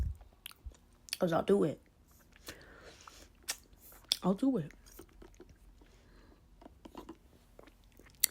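Close, wet chewing and crunchy bites of vegan pumpkin marble chocolate bread cake come in short bursts between pauses, with a voice speaking briefly in the gaps.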